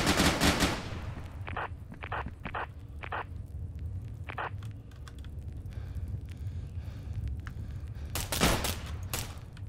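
Gunfire in the video game Intruder: bursts of rapid automatic shots and single cracks, loud and near at the start and end with sparser shots in between, no talking.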